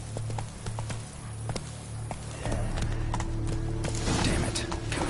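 Steady clip-clop of Roach's hooves in The Witcher III, a galloping horse with an even rhythm close by, growing louder and busier over the last seconds with some rattling gear.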